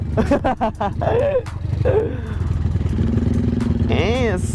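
A motorcycle rides along a narrow rice-field road, its engine revving and clattering nearby beneath steady talk from the riders.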